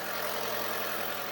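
A Toyota Prius engine idles, miked under the hood, giving a steady, even hum and whir with no rises or pauses, fairly quiet and continuous for a brief moment.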